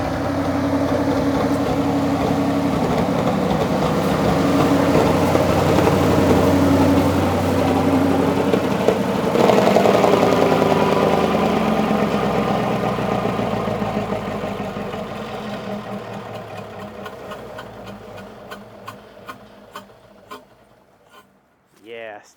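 An 884 cubic inch V8 Onan 140 WE generator, starved of fuel and suffering a bad exhaust valve, runs with a loud steady drone, then sputters and fades as it cuts out, ending in uneven dying pulses.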